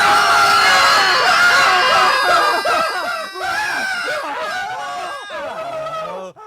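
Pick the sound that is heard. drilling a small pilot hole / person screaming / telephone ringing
person screaming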